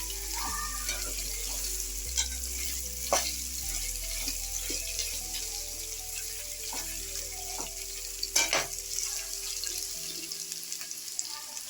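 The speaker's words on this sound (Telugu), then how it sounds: "క్యారెట్ ఇది వేసి ఒక్క నిమిషం ఫ్రై చేసుకున్నాం" Carrot pieces fry in a pan with a steady soft sizzle, broken by sharp clicks and clinks of a utensil against the cookware and a brief louder stir near the end; no one speaks.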